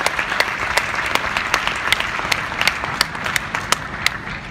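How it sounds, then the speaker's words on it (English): A school audience gives a round of applause, a loud, close wash of many hands with sharper individual claps popping out above the steady roar. "I need a round of applause for him."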